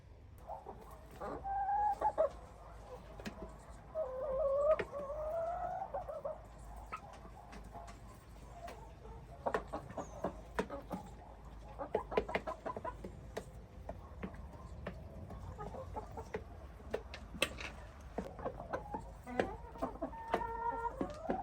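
Around 25 chickens peck at sprouted wheat, clucking and pecking close by in quiet surroundings, with scattered soft calls and irregular ticking pecks throughout.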